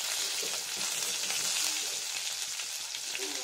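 Onions frying in a pan for a vegetarian potato and pointed gourd curry, with a steady loud sizzle and light stirring, close and continuous with no talk.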